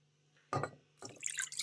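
Two short bursts of water splashing and trickling into a pan holding butter, for churro dough, close by and fairly quiet, with no talking.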